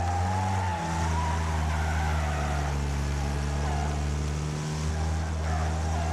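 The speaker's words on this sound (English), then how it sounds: "so I'll be spinning those tyres out" Front-wheel-drive stock car in the Wreckfest racing game, its engine droning steadily at high revs while the tyres spin and scrub, with a brief dip in the engine tone near the start and again near the end.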